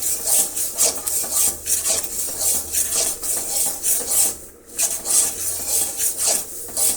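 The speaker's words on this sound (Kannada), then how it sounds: "ನೋಡಿ, ಎಳ್ಳು ಸಿಡು ಅಂತ ಸೌಂಡ್ ಬರ್ತಾ ಇದೆಯಲ್ಲ, ಇಷ್ಟ ತನಕ ಹುರಿಬೇಕಾಗತ್ತೆ ಎಳ್ಳು" Black sesame seeds dry-roasting in a pan, a steady dense crackle and rasp with short pauses, as if stirred, close and continuous with no talk.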